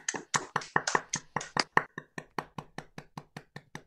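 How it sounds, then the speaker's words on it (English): Scattered hand claps from a few people unmuted on an online call, a dozen or so distinct claps close to the mic, loud at first and thinning to a steady, sparser rhythm. "please join me in a big clap if you have the ability to unmute yourself"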